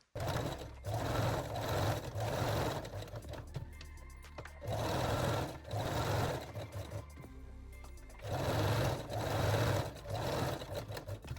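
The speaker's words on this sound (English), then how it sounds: "now I will sew the crotch pieces with long straight stitch together" A sewing machine stitches panty crotch pieces together with a long straight stitch, running in three loud, close bursts of fast rhythmic whirring separated by brief pauses with faint handling clicks.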